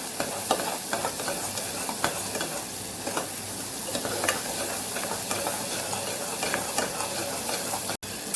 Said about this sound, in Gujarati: આપણે મસાલાને સાતડી લેવાનું છે